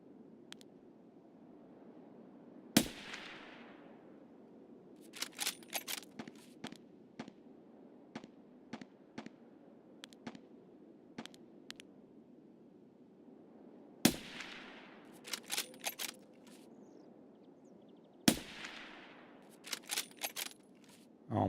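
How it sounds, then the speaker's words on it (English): Gunfire in Escape From Tarkov, sharp loud single shots with echoing tails, broken up by rapid bursts of quick repeated shots at a distance, in a quiet outdoor scene. "That's our loud og shooting right there."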